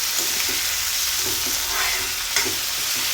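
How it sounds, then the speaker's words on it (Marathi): Cabbage, green chili and tomato sauté over a high gas flame with crushed garlic and ginger, a dense steady sizzle broken by a few soft stirring scrapes, close and alone. "आता हे छान परतून घ्यायचं आहे."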